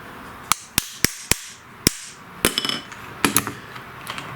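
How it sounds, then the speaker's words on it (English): Steel spindle shaft being hammered out of a lawn mower deck spindle housing, with a nut threaded on the end to protect the threads: a series of sharp, close metallic taps, five evenly spaced blows followed by quicker, lighter knocks. "So I'll just pop this shaft out."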